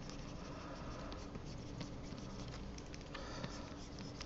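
Pencil scratching across paper while drawing coarse lion fur in clumps, a steady close scritching and patter of short strokes with no talk.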